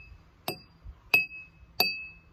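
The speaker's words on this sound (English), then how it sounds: "I'm going to lightly hit them with my spoon." A metal spoon lightly taps empty drinking glasses three times, each strike a bright ringing clink that fades quickly, close and clear in a quiet room.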